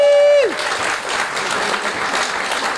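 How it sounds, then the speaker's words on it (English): Live concert audience breaking into applause, a steady wash of clapping that fills the room right after a held tone cuts off, sustained and even for a couple of seconds. "Give a round of applause."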